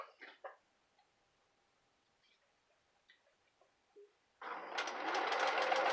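A sewing machine stitching a junk journal, first a few quiet ticks and clicks as it is positioned, then a sudden loud, steady rapid whirring run of stitching near the end.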